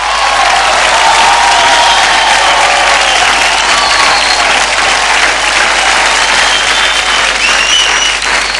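Loud, sustained applause from a stage-show audience welcoming a bride, dense clapping from a large crowd filling the whole stretch with a few faint cheers.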